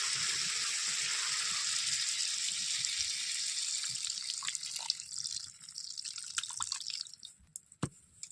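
Water goes into a pan of curry with cauliflower and potato, starting as a steady hiss and sizzle that fades into faint, scattered drips and bubbling.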